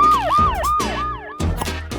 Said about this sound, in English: Yes, a fire truck.